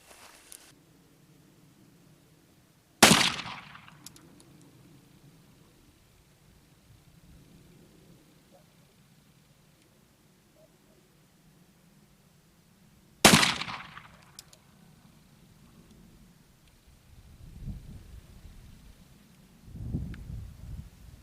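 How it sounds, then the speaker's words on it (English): An 1861 Navy revolver fired at a target: two sharp, loud shots about ten seconds apart, each with a brief decaying tail over faint outdoor background noise, with some rustling near the end. "Like last time, I'll shoot the 3, see where they're printing, and then shoot the other 3."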